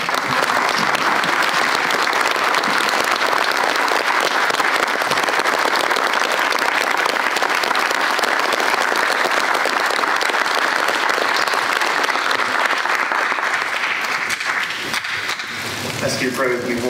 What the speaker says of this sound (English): please stand and give a round of applause for all of our retirees and their loved ones